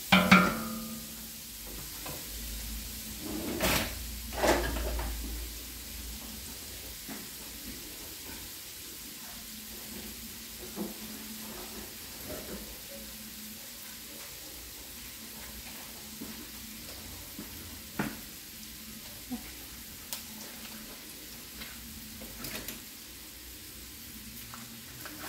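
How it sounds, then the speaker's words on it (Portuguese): Chicken pieces with garlic sizzle steadily in a hot pan, a continuous low frying hiss with a few louder stirring scrapes near the start and scattered pops throughout. "Vou deixar ele refogar aqui. Ele vai começar a ficar mais douradinho, né? Por causa do alho."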